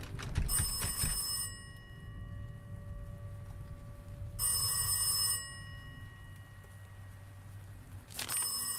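An old-style telephone bell rings in the horror video game Last Days of Lazarus, sounding in three bright metallic bursts over a low, murky ambient drone.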